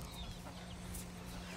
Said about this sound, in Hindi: ये हमारा मुर्गा खड़ा हुआ है।